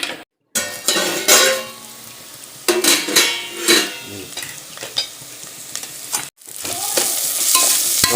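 Onions sautéing in a pan for beef gravy, stirred with a utensil in repeated bursts of scraping and clatter over a steady sizzle, loud and close, with a brief silent gap near the start.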